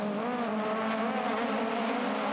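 Aussie Racing Cars race at Sydney, a steady loud engine drone holding high revs with a pack of cars blending together, no voices over it.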